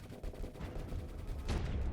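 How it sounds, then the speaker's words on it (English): A siege cannon in a space combat video game fires repeatedly in rapid, loud booming bursts, with a heavier blast near the end. "Siege cannon just missed."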